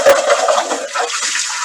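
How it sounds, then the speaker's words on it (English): Tap water runs loud and close, splashing steadily into an empty can as it is rinsed, with no talk. "I'm going to rinse that can out"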